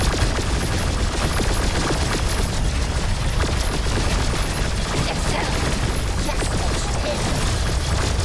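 Gunfire hitting a resource base in the real-time strategy game Battle Aces, heard as dense, continuous rattling fire mixed with booming impacts, loud and unbroken throughout with no pauses.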